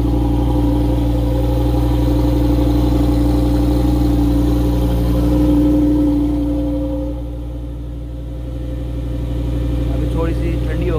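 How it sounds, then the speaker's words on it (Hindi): A loud luxury supercar engine idles steadily just after a cold start, a deep continuous rumble that dips briefly in level before settling, with no talk over it. "ये है जिसका इंटीरियर अभी स्टार्ट की है, बहुत लाउड है यार"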